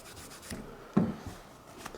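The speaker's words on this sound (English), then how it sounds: "rub through the blade. Just some light pressure." A knife blade is rubbed with an aggressive cleaning compound under light pressure, giving soft, quiet scraping strokes with one slightly louder rub near the middle, close and isolated.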